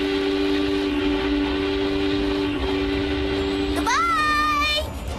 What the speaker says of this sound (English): This train stops at Munich, Geneva, Cucamonga, and Heidi's grandpa's cottage